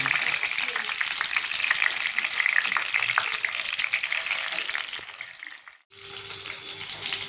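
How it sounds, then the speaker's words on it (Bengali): Pointed gourd (potol) pieces frying in hot oil, a close, even bubbling sizzle with faint clicks of stirring, briefly dipping almost to silence near the end before the frying noise returns. "এরকম পটলগুলো ভাজা হলে একটা ভালো সুগন্ধ আসবে, সেগুলো ভেজে নেব।"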